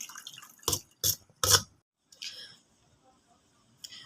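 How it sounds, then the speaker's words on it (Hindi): Cold water poured over strained boiled pumpkin in a kitchen, heard as a few short splashy bursts and drips, close and fairly quiet, with brief pauses between pours. "इसके ऊपर मैं ठंडा पानी भी डालूँगी ताकि देखिए इस तरीके से डालते जाएं और ये सारा स्ट्रेन कर लें"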